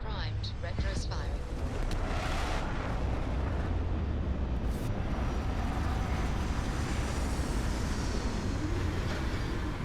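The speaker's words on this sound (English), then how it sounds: "Landing struts primed. Retros firing." Spaceship retro rockets fire during a landing in the game Starfield, a steady loud roaring rumble that fills the whole stretch, with a voice speaking over it early on.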